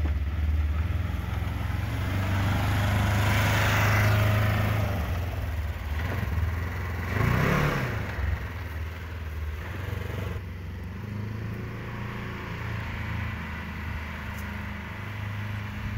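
Polaris Ranger UTV with newly fitted brake line and A-arms, rear tires leaning to the right, driving around a backyard; a steady low engine drone swells as it passes close around the middle, then eases back to a quieter idle-like hum.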